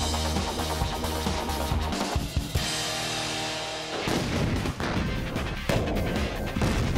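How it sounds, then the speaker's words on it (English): A car trunk packed with Hollywood binary explosive detonates in a heavy blast, followed by crashing, rumbling debris and sharp cracking bursts in a chaotic, loud sequence. "That's what the detonation of a trunk full of Hollywood binary explosive looks like."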